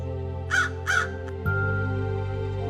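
Two harsh crow caws ring out close together, followed by a quiet steady tone and background music.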